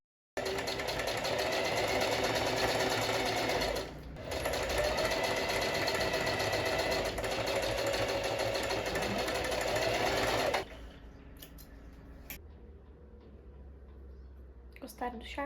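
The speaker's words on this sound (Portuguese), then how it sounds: "Finalmente eu terminei de costurar e virar tudo isso aqui." A sewing machine stitches corset fabric in steady, loud runs for about ten seconds, with a brief pause partway through, then stops, leaving quieter handling noise and faint clicks.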